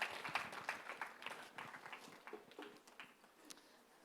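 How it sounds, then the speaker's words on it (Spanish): Congregation applause in a church service, with scattered, uneven clapping at a low level that thins out and grows sparser over several seconds. "Da un aplauso al Señor."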